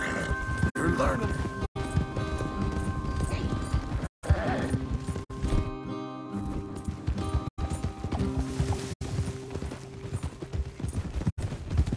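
Horses ridden in the video game Red Dead Redemption II, their hooves clip-clopping steadily at close range alongside music and snorts, with people talking over the hoofbeats.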